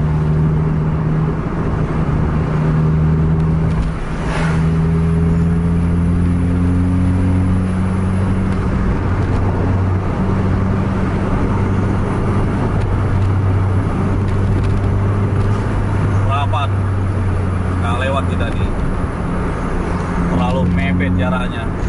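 Inside a bus racing along a road amid private cars and oncoming traffic, a loud, steady engine drone with shifting tones runs throughout, while a person talks over it.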